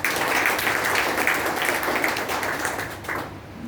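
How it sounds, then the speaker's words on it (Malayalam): An audience at a core leaders meet breaks into dense, sustained applause, many hands clapping loudly together before the sound starts to thin out near the end. "ആദ്യം നല്ലൊരു കൈയടി നിങ്ങൾക്ക് തന്നെ കൊടുക്കാം"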